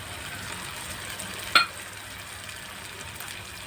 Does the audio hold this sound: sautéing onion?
yes